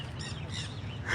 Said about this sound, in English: can you hear the sound of the parrots?